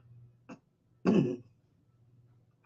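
A man coughs once briefly, then clears his throat in a louder, rougher burst, with quiet low hum in between.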